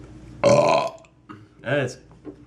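A loud, drawn-out burp after drinking beer, followed by a second shorter, gurgling belch and a brief trailing grunt, close to the microphone.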